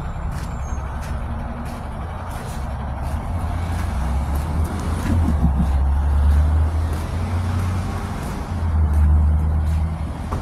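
Garbage truck passing in road traffic, a loud low diesel rumble that swells and fades under steady traffic noise, with air-brake hisses and faint beeping.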